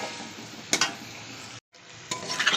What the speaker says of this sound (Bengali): সুন্দর করে আলুটা দিয়ে ভালো করে মশলার সাথে মাখিয়ে নিতে হবে